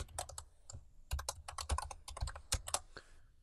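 A password is typed on a computer keyboard in a quick, dense run of close keystrokes with a few heavier thumps, probably the space bar, and no talking.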